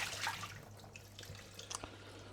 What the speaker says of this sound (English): what we need to do is drain off the water from our chips